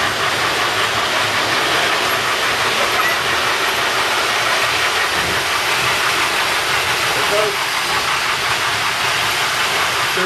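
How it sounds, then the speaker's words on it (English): A Lionel toy train runs outdoors, chuffing like a steam locomotive with a loud, continuous hiss and rumble throughout, under busy ambient noise. "It sounds just like a steam locomotive."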